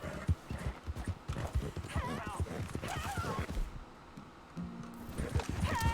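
Hooves clop rapidly on the ground while a horse whinnies in Red Dead Redemption 2, with a voice and game sound effects mixed in.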